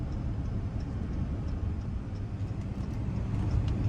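Steady low rumble and road drone from a 2019 Ram 1500 Laramie pickup with a 5.7 V8 and 8-speed transmission, driving at a constant pace inside the cabin, with no voices.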